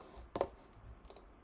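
A single computer keyboard key press on the tab key, one soft close click, followed by a couple of fainter keystroke taps in a quiet room.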